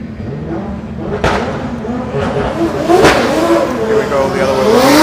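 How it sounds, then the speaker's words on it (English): A drift car on a practice run at Drift Masters 2026 in Germany revs hard, with rough tire noise and rising engine pitch throughout and live commentary over the top. "tires rubbing there."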